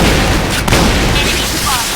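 A grenade blast in the shooter game Point Blank: one dull, muffled boom partway through, sitting inside a dense, steady wash of gunfire and game noise.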